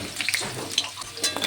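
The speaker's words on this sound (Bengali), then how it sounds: "সামান্য একটু নুন দিয়ে আমি কাঁচকলাটাকেও ভেজে নেব।" Green banana pieces frying with a pinch of salt in a pan, a close crackling sizzle with small irregular pops and spatters, no voices.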